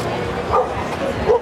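A very excited elite jumping dog on the dock at a dock diving event gives a couple of short, close yipping barks, with people talking over the noise.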